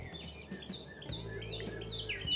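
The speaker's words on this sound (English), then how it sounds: "They start by calling, a loud, prolonged stutter, like really prolonged." Yellow-shafted northern flicker calling outdoors: a run of bright, repeated descending chirps over a low background hum, moderately faint and somewhat distant.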